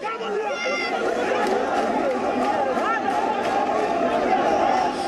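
Continuous babble of a large crowd gathered outside the CBI office in Kolkata during the Narada bribery case, many overlapping voices forming a steady, fairly loud murmur.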